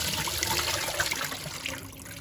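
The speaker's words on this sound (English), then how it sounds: "the screen strains out the water, leaving just the pulp" Water drains from paper pulp through a colander screen, a continuous splashing trickle that tapers slightly toward the end, close and alone without talking.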